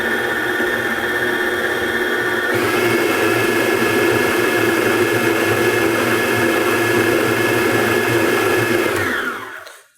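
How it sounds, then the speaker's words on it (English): Stand mixer whipping batter for a bake in a home kitchen, a loud continuous whirring motor drone with a slight whine that shifts pitch partway through, then winds down to a stop at the end. "We're going to go ahead and get it a quick mix before I fling it all over the kitchen here."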